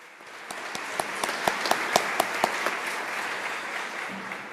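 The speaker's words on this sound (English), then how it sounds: "I don't want to step off this podium before you have a round of applause with lots of" An audience at a scientific conference on infection and immunity applauds with a steady, moderately distant crowd clapping, a few sharper nearby claps standing out, rising gently then holding.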